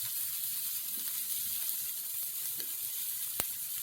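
Cooked sausages draining in a pan with a steady soft sizzle and light watery hiss throughout, plus a single sharp clink near the end.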